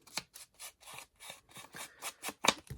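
A paper piece is pressed and rubbed onto an envelope base, producing about ten short, dry rubbing strokes in an even rhythm, close and crisp, with silence between them.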